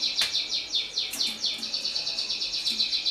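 A pet bird sings indoors in a steady run of bright, rapid chirps and trills, near and fairly loud, with no talk over it.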